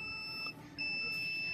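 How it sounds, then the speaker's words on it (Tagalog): A multimeter continuity buzzer tests a shorted circuit in a lightning-damaged 40-inch Ace smart TV: one loud, steady, high beep that breaks off briefly and then resumes, close and alone. "Meron tayong buzzer dyan."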